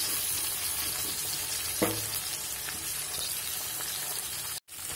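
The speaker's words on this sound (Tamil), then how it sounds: "இந்த மாதிரி நல்லா டீப் ஃப்ரை பண்ணிக்கணும்." Ivy gourd (kovakkai) deep frying in oil, a dense, steady sizzle and crackle close by, with a brief clink partway through and a sudden dropout near the end.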